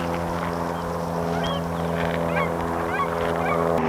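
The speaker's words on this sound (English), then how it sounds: "see if I can catch those geese flying away over there" Geese honk repeatedly as they fly away outdoors, several short calls at moderate distance over a steady low engine-like drone, with no talk.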